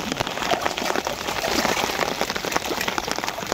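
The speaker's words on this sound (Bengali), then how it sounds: "হঠাৎ করে বৃষ্টি নামছে" Steady rain pours over a village wetland during the monsoon, a dense, continuous hiss of drops striking water and ground, close and fairly loud throughout with no voices.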